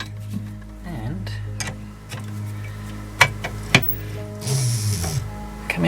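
A trolley jack's ratcheting mechanism being pumped up and then lowered during a rebuild, giving close metallic clicks, clinks and a few sharper knocks, with someone talking over it.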